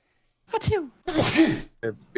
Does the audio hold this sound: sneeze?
yes